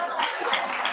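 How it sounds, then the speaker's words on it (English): Applause from an audience at a sermon or church message, a steady broadband patter of clapping that fills the whole second at moderate loudness with no voice over it. "So give a round of applause for that."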